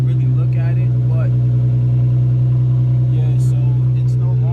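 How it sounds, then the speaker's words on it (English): An Infiniti G35 coupe on a cold start, running through a custom single-exit exhaust with a steady, loud low drone and a constant hum, while someone talks over it. "This is a cold start. Custom exhaust, I guess."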